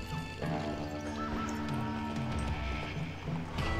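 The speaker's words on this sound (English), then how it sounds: "Look at the same horse. They're all the same horse." Horses clip-clop in the Call of Juarez Gunslinger video game, a steady run of hoof beats under dense game music and ambience, moderately loud throughout.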